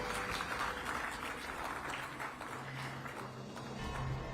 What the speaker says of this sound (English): I think we can keep the claps rolling for Dr. Geeta